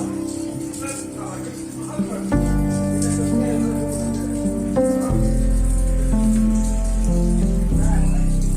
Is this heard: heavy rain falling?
yes